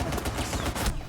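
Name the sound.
Deagle pistol gunshot in a video game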